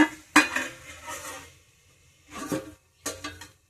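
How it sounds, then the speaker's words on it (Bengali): A lid goes onto a cooking pan on the stove, making a sharp metallic clank followed by two softer clinks and rattles as it settles, close and clear with no talking. "এই অবস্থায় একটু ঢাকা দেব, একটু ঢাকা দিয়ে রাখবো"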